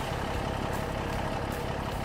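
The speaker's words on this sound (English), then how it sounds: "This tractor's loud." A loud tractor engine runs steadily in a log transport video game, a continuous low droning rumble with no voices over it.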